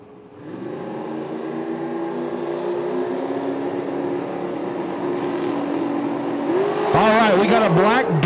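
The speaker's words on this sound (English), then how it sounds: "And the Chevrolet Corvette, tuned and owned" A tuned Chevrolet Corvette drag car on radial tires at a drag race holds a loud, steady engine drone that builds, then breaks into sharply rising revs near the end, with someone talking over it.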